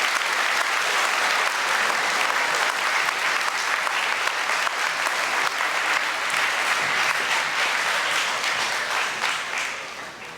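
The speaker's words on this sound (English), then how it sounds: "We can give him a round of applause." A school Closing Convocation audience gives a full, continuous round of applause honoring a longtime teacher and associate headmaster. The clapping stays steady for about ten seconds and fades slightly at the close.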